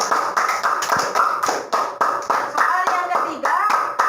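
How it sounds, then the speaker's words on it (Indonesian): A fifth-grade math class claps in a quick, regular rhythm for a student, with sharp repeated bursts of hand claps and a teacher's voice speaking over them. "Tepuk tangan buat adik."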